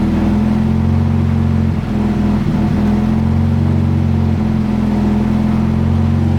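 A tuned rotary engine idles with a steady low hum that surges and dips in waves, a brief throttle blip breaking the idle partway through, sounding close and continuous with no talk.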